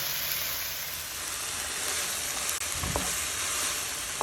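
Banana flower sizzles and fries steadily in a hot pan, a dense, even hiss running throughout, with a brief stir or scrape near the end.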